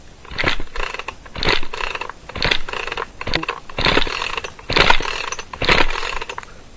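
A chainsaw's pull-start rope is yanked again and again, seven raspy pulls in a steady rhythm about a second apart, and the engine never catches. The sound is close and fairly loud, with no talking.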